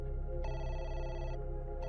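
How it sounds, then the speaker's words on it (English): A telephone rings in one steady, bright electronic burst lasting about a second, then starts again near the end over a low, constant background hum. "Just then, the phone rang again."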